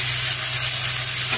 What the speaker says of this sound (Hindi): फ्लेम पे थोड़ा सा फ्राई करेंगे, ताकि ये मेरा फ्राई हो जाए।